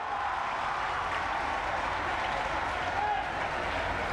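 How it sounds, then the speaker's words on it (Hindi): An audience applauds at a college statue unveiling in Gorakhpur, a steady, dense wash of clapping from a large crowd that holds at an even level throughout without breaks. "तालियों की आवाज धीमी न पड़े"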